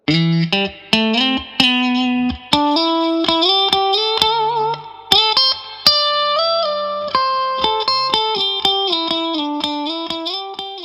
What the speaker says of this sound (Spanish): La técnica del slide o arrastre